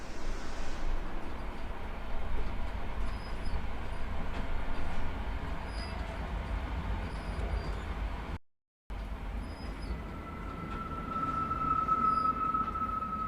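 A subway train rumbles steadily at a terminal in a backrooms-style video game, with a continuous low drone, a brief cutout, then a thin high whine emerging as it moves.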